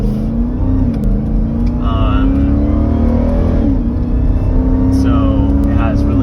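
Tuned car running E85 with a smaller supercharger pulley, ported, and catless mid-pipes, its engine droning and climbing in a long steady pull, loud and close, while someone talks over it.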